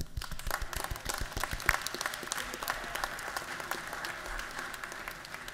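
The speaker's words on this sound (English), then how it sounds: "I think we do owe you a round of applause." Lawmakers and guests in the Georgia House Chamber applaud, with sharp, distinct claps that are loud at first and then settle into a steady, moderately distant round that carries to the end.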